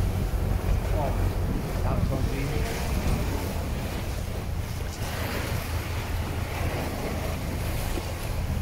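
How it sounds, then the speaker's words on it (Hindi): Sea water surges against rock formations on the Malta coast, a steady roaring wash of waves with heavy wind buffeting the microphone, continuous and loud. "कितनी तेज़ी से जो है वो पानी टकराता है इनके साथ आके और कटाव पैदा करता है इसके अंदर"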